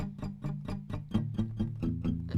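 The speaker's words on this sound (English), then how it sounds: "it's called palm muting" Palm-muted guitar strumming in a steady, even rhythm: short, choked strokes with little ring, played close and at moderate volume.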